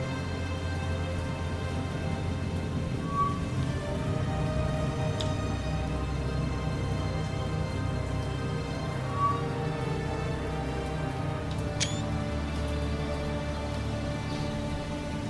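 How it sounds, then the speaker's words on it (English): Steady rain falling in the naval video game War on the Sea, a continuous even patter alongside a low drone, with no talk. "nice rainy day."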